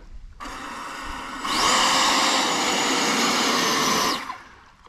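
A 90mm 14-blade electric ducted fan on an RC hydroplane spins up to a loud, steady high whine and roars for a few seconds before cutting off, alone with no talk.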